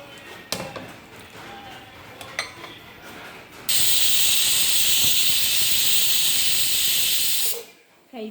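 A pressure cooker on high flame lets out a loud, steady, high-pitched hiss of steam for about four seconds before cutting off abruptly, after a few soft kitchen clinks.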